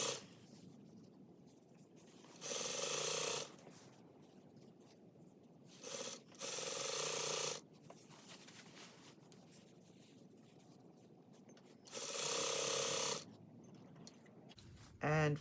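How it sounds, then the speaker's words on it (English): Fabric is sewn around the opening of a cover-up in short bursts of machine stitching separated by quiet pauses, close and fairly soft. "I'm going to sew that all around the opening area."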